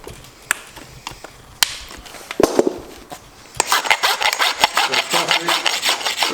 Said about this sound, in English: When you rasp it up, try and keep the rasp at the same angle so you don't end up rasping the clenches off